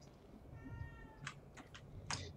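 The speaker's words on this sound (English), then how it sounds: "Meow kitty." A cat meows faintly a few times in quick succession, short high cries over a low steady background hum in a horror video game, The Evil Within 2.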